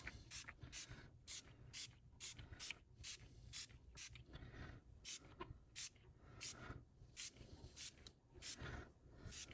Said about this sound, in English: I'm going to spray this background panel.